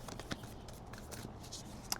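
Tarot cards are shuffled quietly in a continuous rustling flurry with soft taps and one sharp snap near the end, close but faint, with no speech.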